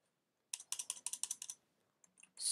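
Rapid typing on a computer keyboard, a close burst of about a dozen crisp key clicks in quick rhythm, then a pause and a few more scattered taps.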